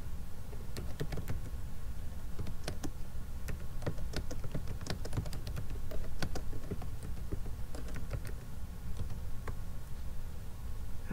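Steady typing on a computer keyboard while writing a paper title in MS Word, a quiet, continuous patter of key clicks with irregular rhythm and no talking.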